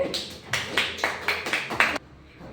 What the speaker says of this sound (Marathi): छान, टाळ्या वाजवा रे